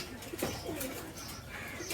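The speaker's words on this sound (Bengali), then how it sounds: "এখন বর্তমানে কয়েকটা কবুতর আছে, ডিম বার বাচ্চা দিচ্ছে" Pigeons coo softly among a few nesting birds, a couple of low burbling coos over a steady background hiss, close and fairly quiet, with no talking.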